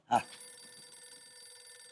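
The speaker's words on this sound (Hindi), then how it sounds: "सर रिंग जा रही है।" A telephone rings in a comedy TV scene: a sharp burst, then a steady electronic ringing tone that holds at an even, fairly quiet level.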